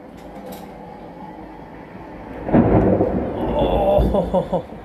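A rumbling thunderstorm from the Team Sonic Racing racing game swells in, a deep rolling thunder crack building midway and lingering with crackling rumble over faint background game sound.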